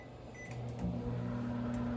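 A microwave oven heating water hums steadily at close range, its low mechanical drone running throughout the short stretch.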